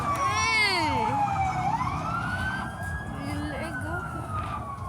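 A fire truck siren wails loud and close, its pitch sweeping up and down in long rising and falling cycles over a low engine rumble.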